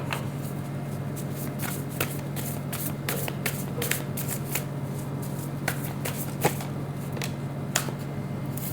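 Playing cards being handled during a card reading, with crisp flicks and snaps scattered irregularly over a low steady hum, close and fairly quiet with no speech.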